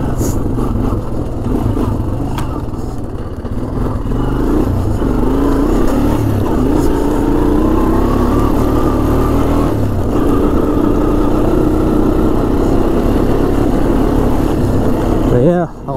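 Honda Foreman 400 ATV engine cruising steadily in fifth gear at light throttle on a trail, a continuous close mid-pitched drone with slowly shifting harmonics and wind noise, alone without talk.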